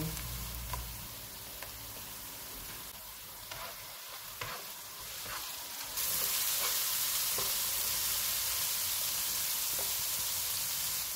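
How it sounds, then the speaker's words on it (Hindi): Ginger garlic paste with cumin fries in a pan for chicken tikka pulao, giving a steady close sizzle with light stirring scrapes and taps that swells louder midway; no talking. "एक टेबलस्पून अदरक और लहसुन का पेस्ट डालेंगे। इसको 2 मिनट तक भूनेंगे।"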